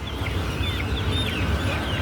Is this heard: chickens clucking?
yes